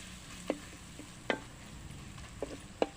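A spoon stirs turmeric into a mango dal mixture in a pan, giving four distinct scraping strokes spaced out over a faint, steady sizzle.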